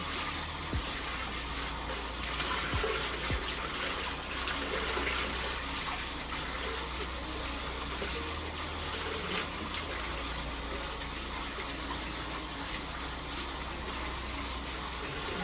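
Water running steadily from a bathtub tap while long dreadlocks are wetted before shampooing, a constant close gushing splash with no talk.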